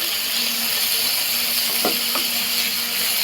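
Chopped bitter gourd sautéing with onion in a pan for a Kerala theeyal, a steady loud sizzle and hiss with a couple of brief clinks of a utensil, no talk.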